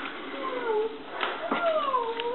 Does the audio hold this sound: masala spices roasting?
no